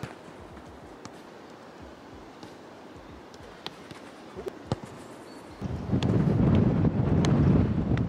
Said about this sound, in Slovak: Najprv som si myslel, že ten vietor bude zlý.